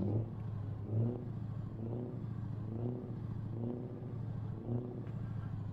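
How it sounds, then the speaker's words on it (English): Scania R440 truck engine in Euro Truck Simulator 2 idling with a deep, V8-style rumble, pulsing through several moderate revs at a steady rhythm, close and alone. "we'll go on the inside and start it up. And we'll give it a rev up."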